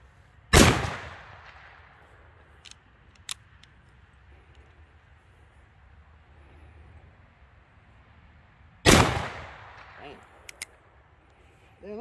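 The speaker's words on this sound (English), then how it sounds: "Shoot in the middle of the bucket and see what it does to the bucket." Two loud revolver shots from an Uberti 1860 Army Colt replica fired at a bucket outdoors, spaced about eight seconds apart, each a sharp crack with a short decaying tail, with faint clicks and low background noise between.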